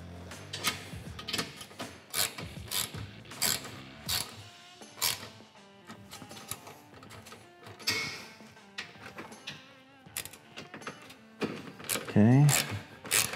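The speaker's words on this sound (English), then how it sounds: "grab your socket and go ahead and tighten the bolt pretty good onto the machine" Socket wrench ratcheting to tighten a bolt on rock sliders being fitted to a two-seater Polaris General 1000, close rapid clicking bursts mixed with metallic handling clatter, with a person talking intermittently.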